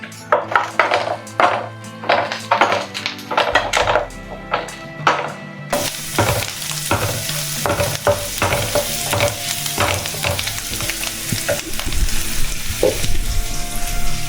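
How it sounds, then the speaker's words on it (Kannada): Egg bhurji frying in a pan with turmeric and coriander leaves: a steady oil sizzle runs under sharp, repeated scraping and clacking as a spatula stirs against the pan, getting louder and denser halfway through. "1 ನಿಮಿಷ ಫ್ರೈ ಮಾಡ್ಕೊಳ್ಳೋಣ."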